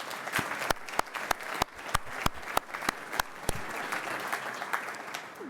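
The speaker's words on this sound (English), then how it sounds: "So please give them a round of applause." An audience at a life science awards ceremony in British Columbia applauds steadily, a continuous wash of clapping with sharp individual claps standing out at a steady rhythm, moderately distant.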